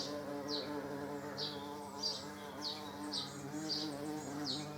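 A bee buzzes around a Harley-Davidson Deuce motorcycle in a garage, its steady drone swelling and fading as it passes close by in repeated loops, heard alone over a low background hum.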